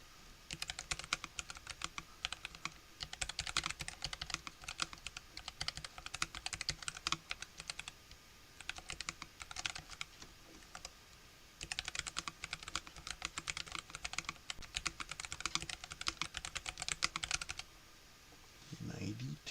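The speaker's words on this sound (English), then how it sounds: "I like the sound of them, of the keycaps. They're actually not that loud." Continuous clattering keystrokes on a computer keyboard, fairly quiet keycaps, typed in two long bursts with a short lull in between and a brief pause near the end, steady and close.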